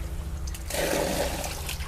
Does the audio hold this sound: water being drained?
yes